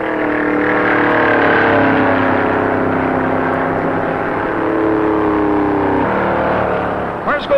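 Stock cars, including a number 6 Pontiac, racing at the 1957 Daytona Beach race, loud continuous engine roar with shifting pitch as cars pass, rising and falling, under an announcer's narration.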